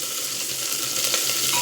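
Sliced onion and three green chillies fry in oil with crackling mustard seeds and urad dal, a short burst of dense, close sizzling that stays steady throughout, with no voices.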